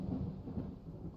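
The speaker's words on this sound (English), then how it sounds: "Don't do a thunderstorm now." Thunder rumbles during a thunderstorm in the Ranch Simulator video game, a low continuous roll that stays fairly steady for about a second with no talk over it.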